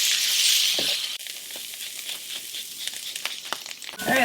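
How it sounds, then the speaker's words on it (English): Garlic with pepper and lemon zest sizzles in a hot pan while being stirred, a steady close frying hiss with a louder burst at the start and scraping stir sounds throughout. "Stir up the garlic a little bit so it"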